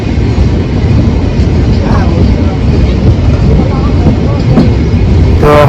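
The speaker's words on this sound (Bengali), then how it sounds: "ট্রেনের গতি কত গতিতে যাচ্ছে, অনেক দ্রুত গতিতে যাচ্ছে আমাদের ট্রেনটি" A moving passenger train travelling from Dhaka to Bogura gives a loud, steady rumble of wheels and carriage noise that fills the whole stretch without a break.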